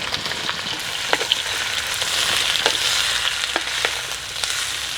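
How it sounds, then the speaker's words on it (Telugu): Whole spices sizzle in hot oil and ghee in a pot while biryani is being cooked, giving a steady bright crackle with occasional sharper pops and spits, close and continuous with no talking. "నూనె వేడెక్కగానే పంచ ముక్కలు మొత్తం వేసుకుని రెండు నిమిషాలు వేయించుకోవాలండి"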